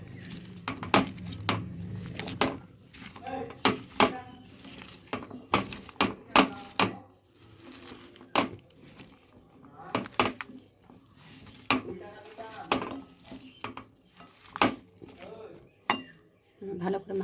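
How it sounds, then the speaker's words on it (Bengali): Hands work a marinade of green chillies and oil in a bowl, producing irregular soft squelches and light clinks and knocks at close range. "একটু হাত দিয়ে ভালো করে মেখে নিই।"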